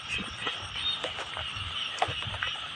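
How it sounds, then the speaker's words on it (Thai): Many frogs croak at once in the early morning after rain, a dense overlapping chorus of rough, pulsing calls at moderate distance with a few nearer croaks standing out. "เสียง กบเสียงเขียดห้อง"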